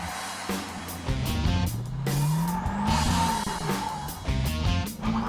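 A twin-turbo C6 Corvette revs and launches hard off the line, its engine pitch climbing through the gears with tire squeal, loud and close, with no talking.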